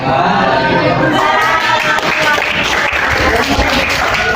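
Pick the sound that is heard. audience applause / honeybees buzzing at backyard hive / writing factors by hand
audience applause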